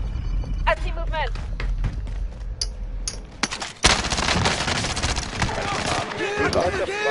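Rapid automatic gunfire from a new gun in Modern Warfare, bursts of shots rattling through the game mix with bangs and movement, a player talking over it.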